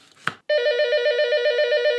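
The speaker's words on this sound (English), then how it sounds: "can you get the phone?" An old telephone bell rings loud and close in a rapid, steady trill that starts abruptly after a brief clatter and carries on unbroken, with no voices over it.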